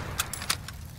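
Weapon reload in a shooter video game, a few quick metallic clicks and clacks of a magazine being swapped, close and crisp over faint background noise.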